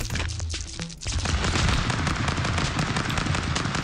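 A heavy machine gun fires in the mobile game Stick Fight Mobile, a short opening burst followed by a loud, sustained rapid stream of shots mixed with booming impacts.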